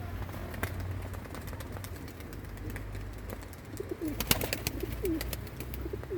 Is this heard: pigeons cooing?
yes